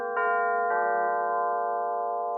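Tubular chimes struck softly with yarn mallets, giving a muted ring with a soft attack, two gentle strikes close together that sustain and slowly fade, with no voices.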